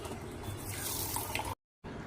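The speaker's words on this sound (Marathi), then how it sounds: "डाळ धुण्यासाठी पाणी टाकूया।" Water runs steadily into a vessel of mung dal being rinsed for cooking, a continuous splashing pour that stops abruptly near the end and then resumes briefly.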